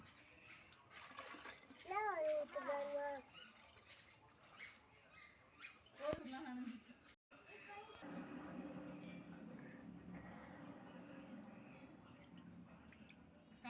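Water poured into a pot and splashing during washing, with sloshing and trickling that turns into a steadier running-water wash in the second half, while a child and an adult talk over it.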